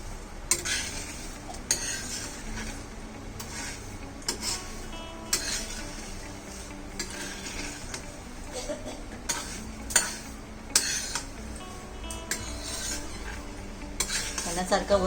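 Rice roasting in a pan for mokal, a Marathi sweet, as a spoon keeps scraping, stirring and clinking against the metal, with a faint sizzle and occasional sharper knocks throughout.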